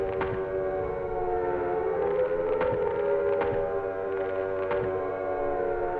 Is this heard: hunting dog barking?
no